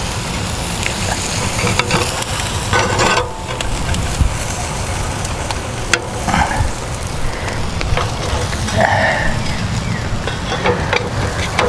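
Chicken sizzles on a Lone Star Grillz firebox grill while being flipped. It gives a steady, loud crackling hiss with a few sharp clanks of the tool, and some faint talk comes through.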